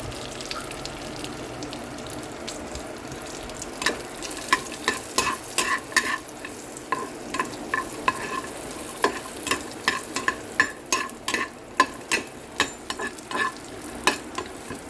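Chopped almonds and cashews fry in hot ghee in a pan, a constant low sizzle punctuated by regular crisp clicks and scrapes as they are stirred, close up and without talk.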